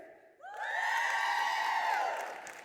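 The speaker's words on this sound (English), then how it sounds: "Do you guys want to cheer again, by the way?" An audience cheers loudly on request at a corporate stage event, with whoops and shouts swelling quickly into a sustained roar that holds for about two seconds and then begins to fade.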